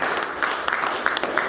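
A Sunday service congregation at a Full Gospel church in Nyeri, Kenya claps and applauds in a dense, continuous patter of many hands with a few sharper claps standing out, faint talk mixed underneath.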